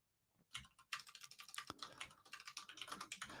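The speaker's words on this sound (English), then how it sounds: "You're probably going to hear me typing." Steady, rapid keyboard typing close by, a quick continuous patter of keystrokes after a short quiet start.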